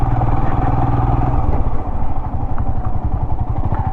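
Motorcycle engine running steadily while riding around Madanapalle, a close, continuous low throbbing hum with rhythmic pulsing and occasional light clatter throughout.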